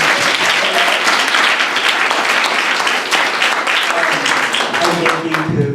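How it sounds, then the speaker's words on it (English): Dense, sustained applause from a large audience fills the stretch from start to finish, closing a panel event with a moderating doctor and speakers; a few voices are faintly mixed in underneath. "Can we give a round of applause to Dr."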